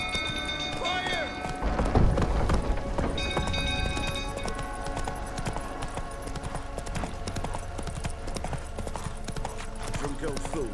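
Roach, a horse in The Witcher 3, gallops in a steady rapid clip-clop of hooves amid game music and ambient effects, with a voice speaking over the hoofbeats.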